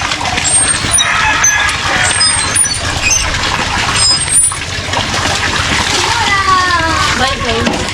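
Bath water splashes and sloshes repeatedly as a child is bathed, with irregular bursts of splatter close by and people talking over it.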